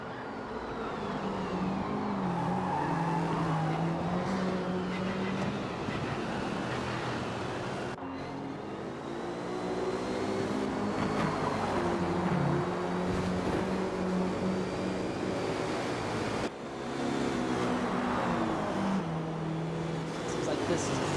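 A McLaren race car in a sunset endurance race in a racing video game drones steadily with engine tones rising and falling as it slides, under continuous commentary talk.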